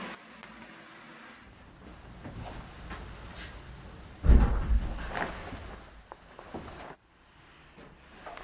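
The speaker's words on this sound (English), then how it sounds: "The door just shut next to me." Door shutting during a paranormal investigation inside an old building, a single muffled thud with a short rattle against a quiet, hissy room background.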